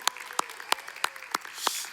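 Rhythmic clapping rings out in a church congregation: six crisp, evenly spaced claps in unison, roughly three per second, loud and close, with a faint wash of other hands behind.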